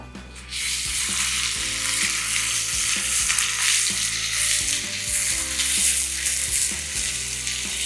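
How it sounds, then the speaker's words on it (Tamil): Ground masala sautéing in oil for a chicken leg fry, a steady loud sizzle with stirring scrapes running throughout, a low background hum and repeated tonal clinks beneath. "இதை போட்டு நல்லா எண்ணெய் பிரிகிற மாதிரி மசாலாவை நல்லா வதக்கி விடுங்க."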